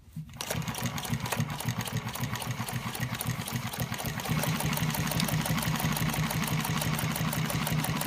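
A Consew 1541 walking-foot industrial sewing machine stitching steadily, a loud, close, rapid mechanical chatter with a fast even rhythm that holds constant and grows slightly louder partway through.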